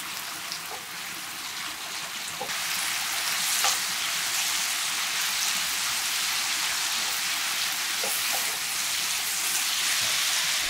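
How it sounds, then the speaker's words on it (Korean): Seasoned namul sizzles steadily as it is stir-fried with perilla oil and green onion, a dense, even crackle with a few faint spatula scrapes. "들기름 3스푼 대파를 넣고 골고루 1분 정도 볶아주고"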